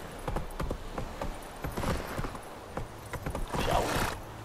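Roach the horse's hooves clip-clop in a steady, fairly close walking rhythm in The Witcher 3 game, with bursts of noisy scuffing and a brief whinny-like sound near the end.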